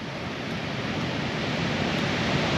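Ocean waves break on a Hawaii shore in a steady, dense roar of surf, continuous and fairly loud with no distinct pauses between breakers.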